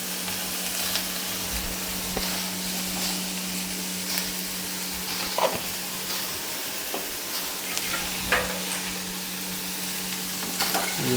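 Curry ingredients, seasoned with salt and turmeric, sizzle steadily in a pan while a spoon stirs them, giving a constant frying hiss with occasional soft scrapes and clicks, close and alone.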